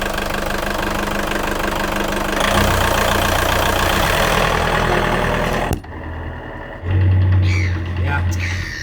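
A boat's Saildrive engine idles and is put in gear, a steady mechanical drone with a recurring faulty knocking noise, the pitch shifting as it engages, with voices speaking briefly.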